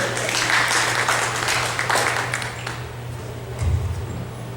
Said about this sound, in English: Come on, good Lord, hand clap of praise.